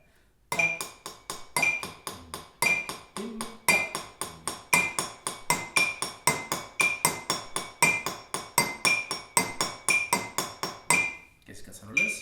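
A different set of drinking glasses is tapped in a brisk, repeating rhythmic pattern of bright, ringing clinks with regular accents, close and clear for about eleven seconds, then stops, leaving a brief quiet tail.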